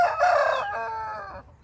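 A rooster crows loudly and close by among a flock of chickens at a traditional market in Salem, one full drawn-out call that trails off after about a second and a half.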